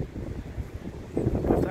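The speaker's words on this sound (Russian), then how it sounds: "Ветер только сильный." Strong wind buffets the microphone outdoors in a low, uneven rumble that swells louder near the end, with a voice talking through it.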